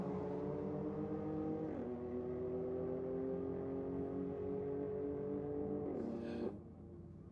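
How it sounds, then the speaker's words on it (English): A BMW at a drag-racing night held at high, steady revs as its tyres spin, the engine note dipping briefly twice before a short burst of noise and a lower idle at the end. "BMW just start turning tyres."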